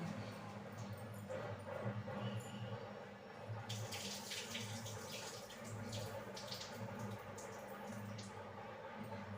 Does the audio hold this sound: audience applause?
no